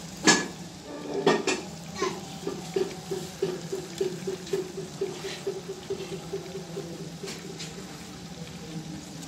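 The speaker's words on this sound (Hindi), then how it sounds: "अब हम इसमें चीनी डाल देंगे ताकि चीनी भी अच्छे से मिक्स हो जाए।" Sugar being stirred into semolina halwa in a pan, with repeated spatula scrapes and knocks against the metal in a steady rhythm under a soft sizzle, close and fairly loud.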